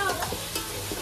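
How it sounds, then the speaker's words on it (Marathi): Onion sautés in a pan with a constant soft sizzle, a spatula stirring and scraping in a few quick strokes, close and brief. "आता कांदा आमचा मस्त परतला जाणार आहे."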